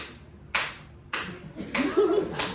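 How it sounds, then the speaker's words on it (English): A lone audience member at a semi-final event claps a few sharp, separate strokes, spaced apart, with a faint voice and other sounds nearby. "So you're going to clap by yourself, and the people around you will join in."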